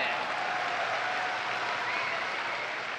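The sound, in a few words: applause in Kagoshima Arena at pro wrestling match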